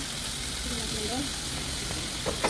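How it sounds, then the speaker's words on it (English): Steady sizzling of lean minced beef frying in a pan, a constant crackling hiss with a faint voice underneath. "So here I'm just frying everything and adding my spices now"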